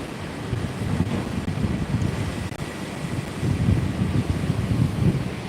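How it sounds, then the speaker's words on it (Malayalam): Wind blows steadily outdoors, buffeting the microphone with a continuous low rumble that swells slightly in gusts; no voices are heard. "ഇപ്പോൾ കാറ്റടിക്കുന്നു"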